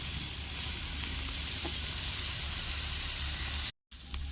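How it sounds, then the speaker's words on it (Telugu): Dried fish sizzling and frying steadily in a hot pan, a loud continuous crackle with faint stirring, cut by a brief silence near the end before the sizzle resumes. "ఇంకా ఎండు చేపలు వేస్తున్నాడు"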